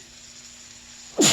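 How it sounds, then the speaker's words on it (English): A single sharp sneeze, set off by pepper while potato soup is being cooked, bursts out suddenly at the very end after a near-silent kitchen pause. "Pepper making me sneeze"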